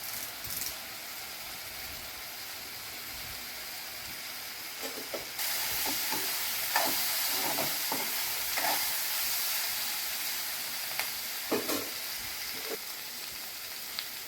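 Curry leaves frying in hot oil in a pan for a bitter gourd curry, a steady close sizzle and hiss that swells partway through, with occasional scraping stirs and pops.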